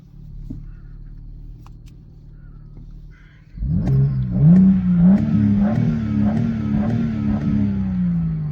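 A 2021 BMW M4 Competition coupe starts up after a quiet interior hum, its exhaust rising in a sudden loud bark and then revving in repeated pulses that settle into a throaty, steady burble, heard up close.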